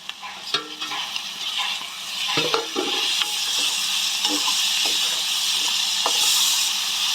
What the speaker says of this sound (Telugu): టమాటాలు వేసుకొని కలిపేసుకొని ఒక పది నిమిషాలు టమాటాలు సాఫ్ట్గా అయ్యేంత వరకు కుక్ చేసేసుకోవాలి